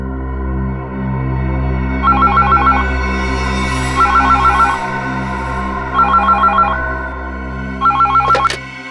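A telephone ringtone trills in four evenly spaced bursts of rapid warbling electronic pulses, each about a second long, over a steady low hum, with no speech.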